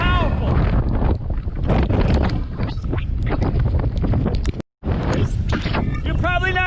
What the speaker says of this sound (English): Because it's so windy, the audio's gonna be horrible.